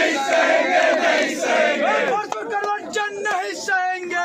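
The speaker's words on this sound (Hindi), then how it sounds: "आज छात्रों का ये विरोध प्रदर्शन जो है कैंपस के अंदर देखने को मिला" A crowd of students protesting on a campus chants slogans in loud unison, the rhythmic shouted lines repeating one after another close to the microphone.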